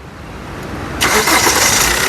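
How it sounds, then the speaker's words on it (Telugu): A 2019 Maruti Suzuki Ertiga ZDi Plus diesel starts on a single crank: a quiet lead-in, then the engine catches abruptly and settles into a loud, close, rough idle. "సింగిల్ సెల్ఫ్లో కార్ స్టార్ట్ అవుతుంది ఎటువంటి స్టార్టింగ్ ట్రబుల్ అయితే లేదండి"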